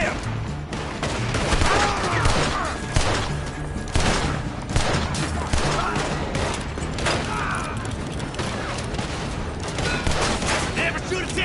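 Dense, continuous gunfire from a Red Dead video game shootout, loud and close, with rapid overlapping shots and booming reports layered over a busy battle mix, with voices shouting underneath.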